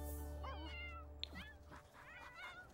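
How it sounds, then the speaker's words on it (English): A stray cat in The Sims video game meows several times in quick succession, clear and close, with a short sharp click partway through and no talking. "It's, Mayor Whiskers! The stray that I love so much"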